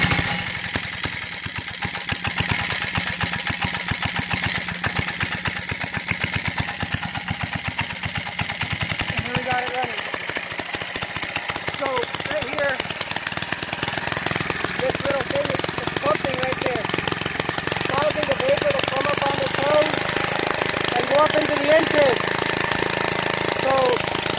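A small engine running on a gas vapor carburetor at wide open throttle chugs and rattles loudly and steadily nearby, with a rough, uneven mechanical clatter throughout.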